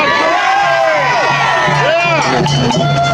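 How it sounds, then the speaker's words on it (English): A large outdoor crowd at a lockdown protest in Toronto's Dundas Square cheers and whoops loudly and continuously, with excited shouts swelling over the steady roar. "What a crowd, what a crowd."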